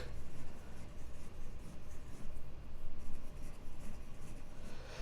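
A fine fountain pen scratches across textured washi calligraphy paper in steady, close strokes, a soft continuous rasp with small rhythmic swells and no voices.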